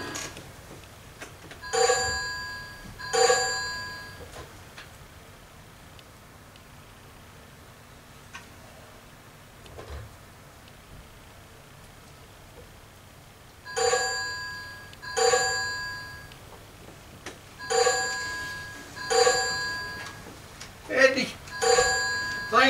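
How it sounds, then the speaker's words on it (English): Old telephone bell in a rural Appalachian house, ringing in repeated bursts, two near the start, then a long quiet gap, then a run of rings toward the end, clear and fairly close. "That old phone ain't run a time since them men hooked up our new line last year. But now, it's ringing"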